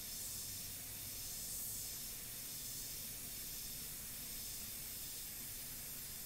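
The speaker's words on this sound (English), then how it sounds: "we could use the airbrush to do our thing." A paint airbrush sprays in a steady, quiet hiss with a soft airy whoosh, continuous and fairly faint throughout, with no voices.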